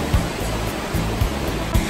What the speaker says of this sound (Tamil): இதுலையும் தண்ணி நல்ல சத்தமாக விழுது.